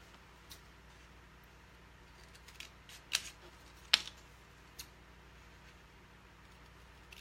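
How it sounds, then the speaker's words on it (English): Vinyl numbers being cut for a craft project, a few sparse, quiet snips and clicks, two slightly sharper ones in the middle, over low room hum. "So let's cut some more numbers."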